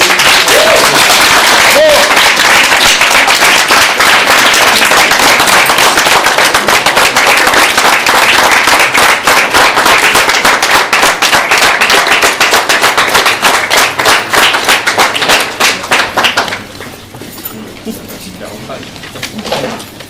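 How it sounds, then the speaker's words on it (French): Loud, dense applause from a large audience, a steady wash of clapping for about sixteen seconds that suddenly drops to a thinner, quieter patter. "une énorme applaudissement"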